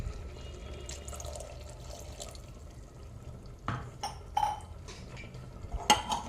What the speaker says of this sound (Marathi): पाणी ऍड करणार आहे.